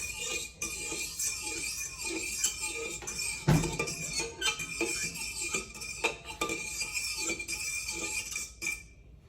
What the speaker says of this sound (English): take your fork and then you're gonna be stirring that up